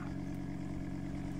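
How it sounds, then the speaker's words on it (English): A car drives nearby in a video game, its engine a low, steady hum that stays constant and fairly faint with no talk over it. "I hear a car up here."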